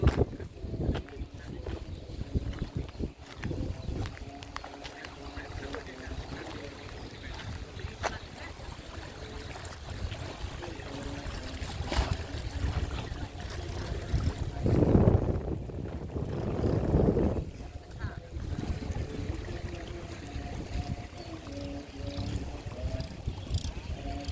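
A fishing boat engine drones steadily at low pitch at a local fishing pier on Cha-am beach, Phetchaburi, Thailand, in the evening, with wind buffeting the microphone and voices talking nearby.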